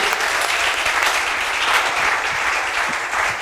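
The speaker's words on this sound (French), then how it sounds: "Est-ce qu'on peut encore les accueillir par les acclamations?" A church congregation applauding, a dense, steady wash of many hands clapping, loud and sustained throughout.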